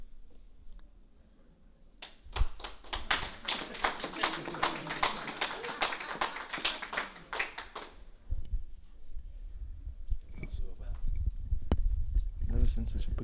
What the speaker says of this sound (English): Never seen such a begrudging clap before.